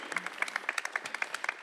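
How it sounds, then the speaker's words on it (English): A brief round of applause at an event honouring ten years of community work: sharp individual hand claps tumble over one another in a lively, moderately close patter, with no talk on top. "A round of applause for Namrata's efforts."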